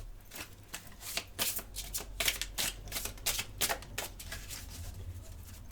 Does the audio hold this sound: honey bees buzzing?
no